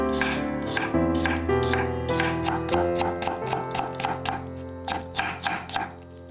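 A knife julienning half a cucumber and a pepper on a cutting board for a Sichuan cold beef tongue dish, with steady rapid chopping taps that speed up, close and clear.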